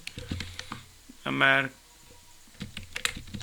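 Computer keyboard being typed on while working in a Word document, a quick run of light key clicks around a brief tone, with a voice talking before and after.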